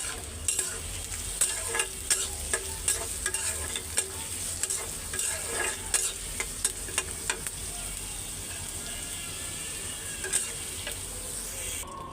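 Sliced bitter gourd stir-frying in a pan gives a soft, continuous sizzle broken by repeated scraping clicks from a spatula, fairly quiet and close, with no talking.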